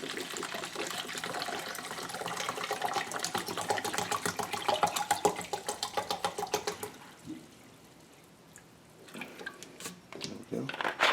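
White vinegar poured into a 4-cup glass measuring cup for pickling banana peppers, a steady liquid gush for about seven seconds that breaks off, then returns in short trickles.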